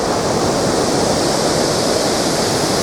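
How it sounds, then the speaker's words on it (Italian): A waterfall on the Lambro river roars close and loud as a steady, dense rush of falling water, with no voices over it. "Siamo arrivati all'altro lato della cascata che avevamo visto prima"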